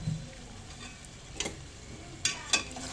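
Aloo tomato curry stirred in a pan after chili powder goes in, a soft low frying hiss with a few sharp scraping ticks of the spoon, quiet and close.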